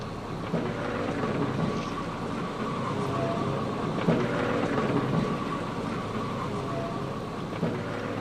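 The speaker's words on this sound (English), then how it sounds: "It is still raining, yes." Steady rain with low rolling thunder in the Farming Simulator 25 game on the Westbridge Hills map, a dense continuous wash of noise with a few soft rumbles swelling beneath it.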